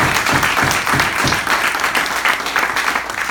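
Loud, sustained applause from a crowd at a political campaign event, dense overlapping clapping with a slightly pulsing rhythm that continues steadily without letting up.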